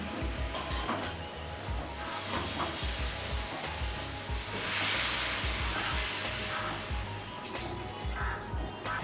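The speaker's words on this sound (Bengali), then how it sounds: "মিডিয়াম ফ্লেমে নাড়াচাড়া করে ভেজে নিচ্ছি" Bottle gourd stir-fried in a pan over a medium flame, a steady soft sizzle with repeated scraping and stirring strokes running throughout at moderate closeness.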